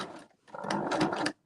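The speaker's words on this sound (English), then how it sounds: "we just sewed across with a zigzag stitch, and now I'm just adding more cord as we go along" Sewing machine running a zigzag stitch across macrame cord while building a rope bowl base, a short, close mechanical whirring burst after a moment of near silence.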